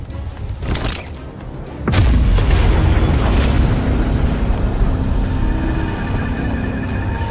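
A weapon strike in a video game lands as a loud, heavy explosion: a sharp boom followed by a sustained, roaring rumble that fills the rest of the clip.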